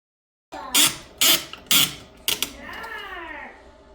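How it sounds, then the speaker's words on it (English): Screws going in while a Whirlpool WDT730HAMZ dishwasher is installed, four sharp ratcheting bursts in quick succession, then a squeaky creaking whine as the last one tightens. "now I'm going to put the screws in up there"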